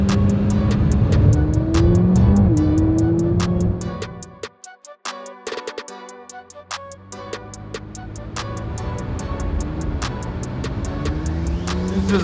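A McLaren 570 sports car drives with a steady engine drone that drops away briefly, then rises again as it accelerates, with rhythmic ticking throughout and no voices.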